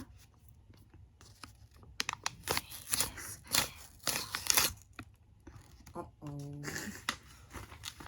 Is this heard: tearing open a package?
yes